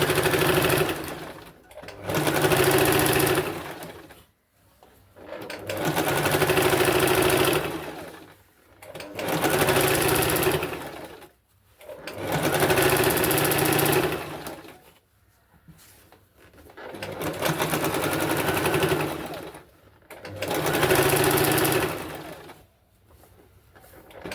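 An electric sewing machine runs in six loud bursts of rapid, buzzing stitching as elastic is sewn onto a chudithar pant, each run lasting a few seconds and separated by short quiet pauses.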